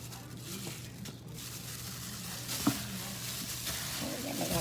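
Minced garlic stirred with chicken wings in a cast iron skillet sizzles softly and steadily at close range, with a low hum beneath and one sharp scrape or clack partway through.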